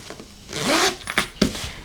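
Zipper on a tote bag slip pocket pulled in one quick close stroke, followed by light rustling of fabric and a short tug.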